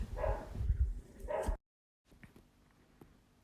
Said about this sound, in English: I am going to go shut my dogs up